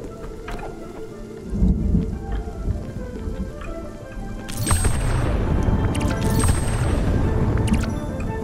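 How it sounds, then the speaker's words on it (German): A thunderstorm with steady rain in the video game Spiritfarer: a constant rain hiss with rolling thunder that swells midway into a louder, sustained crash, no voices. "Spielen wir ein bisschen Sturm."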